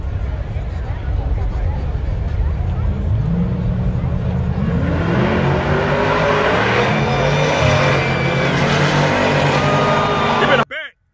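A turbocharged drag race car at Texas Motorplex revs and pulls away, a loud rising engine roar climbing in pitch over several seconds before cutting off abruptly, with voices talking over it.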